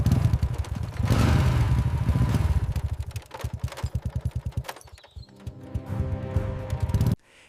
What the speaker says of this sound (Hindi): महाजन हरिदास सेठ बाइक से आता है।